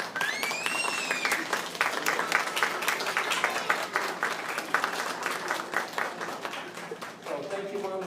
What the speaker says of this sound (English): give a round of applause to the folks behind you